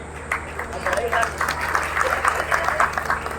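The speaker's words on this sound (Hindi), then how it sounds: "आप बजाइए ताली" Crowd at a political rally in Ramlila Maidan claps in sustained, uneven applause under someone speaking loudly over a PA system.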